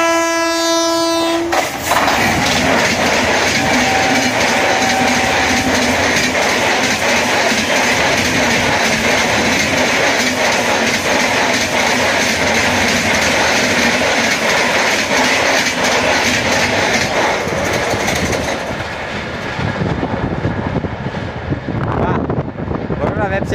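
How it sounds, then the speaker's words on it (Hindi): The 12933 Mumbai Central–Ahmedabad Karnavati Express passes at full speed, opening with a blare of its horn and then a loud, sustained roar with rapid wheel clatter and wind buffeting that fades at the end, with voices faint under it. "वाह, कर्नाटी एक्सप्रेस फुल स्पीड।"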